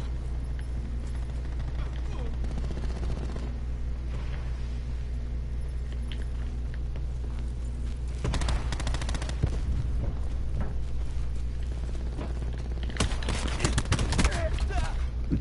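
Gunfire in Call of Duty: Black Ops 4, bursts of automatic shots over a constant low rumble, heaviest near the middle and end, with some talk mixed in.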